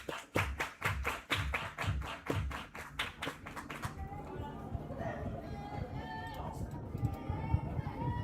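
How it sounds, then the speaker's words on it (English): Rhythmic crowd clapping at a high school softball game fades after a few seconds into crowd chatter and field noise, with talk throughout. "Everybody clap your hands."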